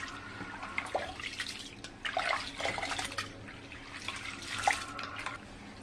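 Rice is being washed by hand in water, with soft, quiet sloshing and splashing in irregular bursts close by and no talking.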